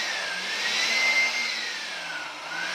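Hair dryer blowing steadily at a salon, a loud continuous whooshing hiss with a faint rising and falling whine, close by and with no talking.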